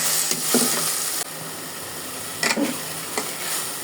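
Onions sizzle in hot oil with ginger and garlic paste for chicken biryani, a steady close frying hiss broken by a sharp drop and a few scraping stirs of the spoon.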